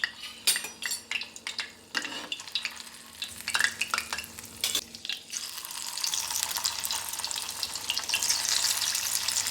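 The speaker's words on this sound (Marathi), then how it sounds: "बस, तेल गरम झालं काय चेक करून ते थोडंसं टाकून।" Moong dal pakoda batter drops into hot oil, with clinks and clatter first and then a loud, steady sizzle of frying that fills the second half.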